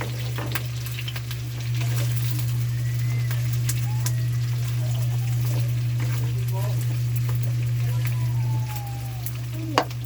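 Steady sizzling and frying in a pan as pineapple and calamansi marinade is poured in, a continuous crackling hiss with a low steady hum beneath and occasional clinks, with talk over it.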